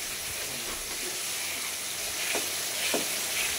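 Spice paste for chicken curry frying in a pan: a constant, close sizzle with a few scraping stirs near the end and no talking.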